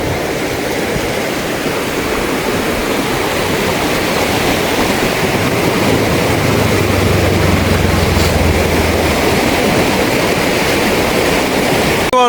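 Storm floodwater races past in Mullaitivu after a cyclone. It makes a loud, unbroken roar heard up close, with a faint low droning hum appearing partway through and no talking.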